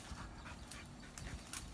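Hunting dog panting close by in short quick breaths, faint and soft with a few sharper rustles or steps, no voices.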